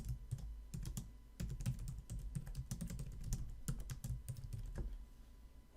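Rapid, uneven clatter of keys on a computer keyboard, close and clear, in quick bursts with brief pauses, recorded while entering JavaScript code, with no talking over it.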